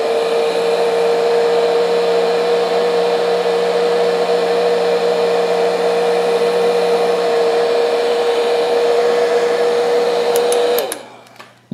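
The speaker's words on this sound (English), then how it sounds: "It all depends on the heat gun, and if you're using a hair dryer," Heat gun blowing hot air onto a cable, a steady loud whirring hiss with a constant motor whine that runs unbroken for about ten seconds before spinning down and clicking off.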